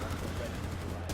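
A quick burst of gunfire in Rainbow Six Siege lands a headshot on an enemy Caveira, sharp and fairly loud over a low in-game hum, brief within a second.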